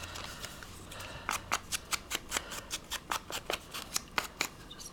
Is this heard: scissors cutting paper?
yes